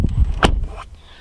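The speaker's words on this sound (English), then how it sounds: "to open up the door, you just squeeze this open right up." A door of a 2020 Ford Raptor pickup truck is opened by squeezing the handle, giving a single sharp latch click followed by a brief low thump and faint rustle, up close and alone.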